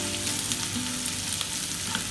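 Sliced onions with ginger, garlic and green chili sizzle in hot oil for a Kerala-style pomfret curry. The crackling is close and continuous, with faint stirring scrapes and no speech.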